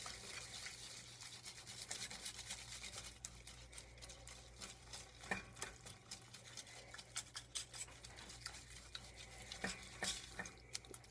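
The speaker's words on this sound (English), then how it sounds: "there's my white sugar, and we're just going to beat all this up together" White sugar being beaten into oatmeal cookie dough for chocolate-covered raisin cookies, a steady, quiet scraping and churning texture that runs continuously with soft patter-like ticks and no voices.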